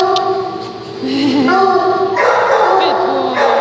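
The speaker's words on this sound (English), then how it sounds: "He barks at the other dogs" A neutered male dog vocalizes up close with yips, whimpering and bark-like cries in varying pitches, loud and continuous throughout.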